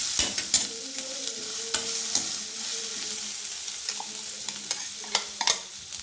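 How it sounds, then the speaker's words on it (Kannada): Chutney ingredients frying in hot oil with mustard seeds and curry leaves, a steady close sizzle broken by sharp spatters and occasional clicks of stirring, with no voices. "ಎಣ್ಣೆಯೊಳಗೆ ಫ್ರೈ ಆಗುತ್ತದೆ."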